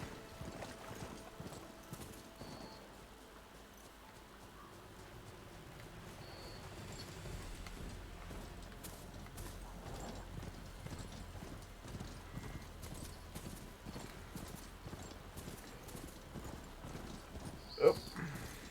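A rideable machine mount in Horizon Forbidden West trots with steady, rhythmic hoof clip-clops throughout, moderately close, with one brief sharper sound near the end.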